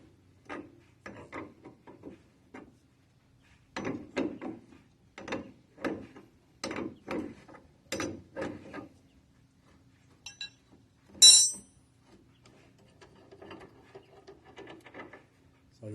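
Metallic ratcheting and clicking bursts come in short irregular clusters while the back cap is worked loose on the suspension of a 1953 Chevy, with one sharper scrape near the end, close and alone without speech.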